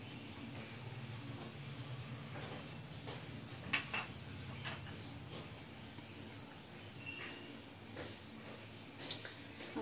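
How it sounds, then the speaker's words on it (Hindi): Rice batter spooned into oiled pan molds for a quick rice breakfast, giving soft spoon scrapes and clinks of metal on cookware with a couple of sharper taps, quiet against a faint room hum. "अब सबके अंदर एक एक चम्मच भर लेंगे, ज्यादा ऊपर तक नहीं भरेंगे"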